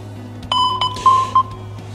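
Short electronic alert beeps from a phone safety alarm app, a few quick tones in an uneven pattern over a low steady hum.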